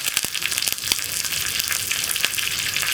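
Dried chillies and curry leaves sizzle and crackle loudly in hot oil, with sharp pops scattered through a continuous hiss, close up and with no voices.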